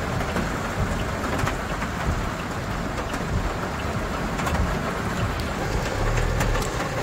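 Heavy rain hammers a moving car in a dense, constant roar of drops on the roof and glass, steady and loud throughout with no speech.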